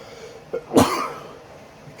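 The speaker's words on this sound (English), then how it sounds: "Excuse me once again, I had to sneeze." A single abrupt sneeze burst from a man indoors, loud and close, preceded by a brief intake, then fading into quiet room tone.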